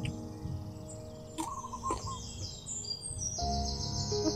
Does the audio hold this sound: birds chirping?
yes